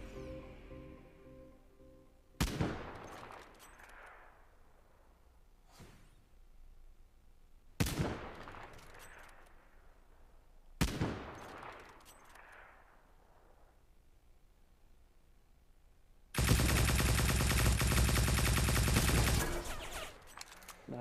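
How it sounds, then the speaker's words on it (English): Gunshots in the video game Cyber Hunter: three or four sharp, separate reports spaced a few seconds apart, each trailing off in an echo, then a loud sustained burst of rapid automatic fire near the end. "And more shots."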